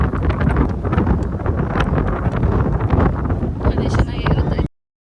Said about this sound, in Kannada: ನಿಮಗೆ ವಿಡಿಯೋಲಿ ಎಷ್ಟು ಜೋರಾಗಿ ಗಾಳಿ ಕೇಳಿಸುತ್ತೆ